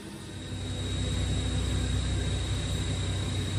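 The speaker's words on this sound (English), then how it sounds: "This is compressors running, as usual." Air compressors run in a workshop where a Haas VF3 spindle is being opened, giving a continuous loud broadband roar with a low mechanical hum and a faint steady whine, unbroken for several seconds.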